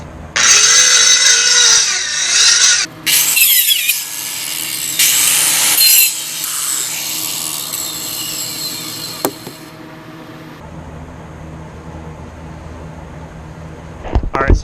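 Wood for a slingshot is cut and shaped with a jigsaw, grinding wheel and rasps: harsh bursts of loud sawing and grinding, stopping and starting, then quieter scraping and handling noises near the end.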